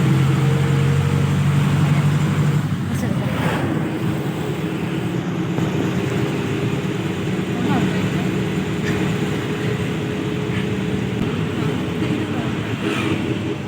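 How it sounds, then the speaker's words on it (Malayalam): A bus on the road from Kalpetta toward Mananthavady in Wayanad: a steady low engine drone and road rumble fills the cabin throughout, with faint clunks and voices talking over it. "കൽപ്പറ്റയിൽ നിന്ന് ബസ് കയറി"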